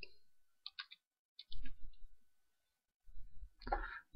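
Keyboard keys are pressed in the XCTU configuration software while setting up Series 2 XBee radios, giving a few light, scattered clicks and soft thumps with pauses between them in a quiet setting.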